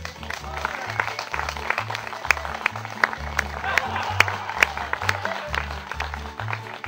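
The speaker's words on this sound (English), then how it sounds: "Give him a big round of applause." Crowd applause rises at a Renaissance faire juggling and sideshow performance, a steady crackle of many hands clapping over a low, rhythmic musical thump, with voices mixed in.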